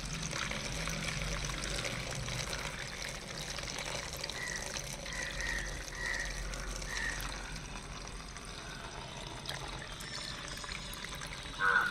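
Water poured into a bottle holding orange peels and jaggery for a homemade plant bioenzyme, a steady low trickle and gurgle running throughout at moderate level with no talk.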